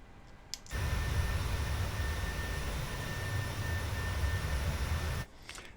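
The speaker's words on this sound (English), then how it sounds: "That engine noise is still a little bit too loud on the outside view" Simulated jet engines of a PMDG 737-800 airliner in a flight simulator, heard from the outside view: a loud, steady broadband roar that cuts in abruptly, holds for several seconds, then drops away, with no talking.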